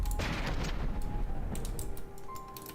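Explosions and gunfire from the From the Depths naval combat game crackle densely, with rapid sharp reports and booming bursts layered over a constant low roar.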